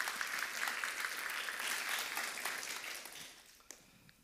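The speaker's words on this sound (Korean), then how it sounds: "우리 한번 박수로 환영하도록 하겠습니다" A church congregation applauds to welcome their pastor, a full, continuous patter of many hands that fades away over the last second with a single sharp clap near the end, heard at a moderate distance.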